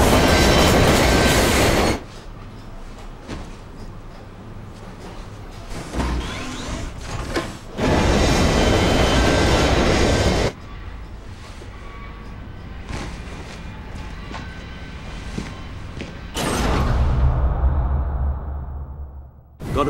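A large train in the video game Lost Planet 2 rumbles and clatters, with loud stretches that give way to quieter passages before it swells again.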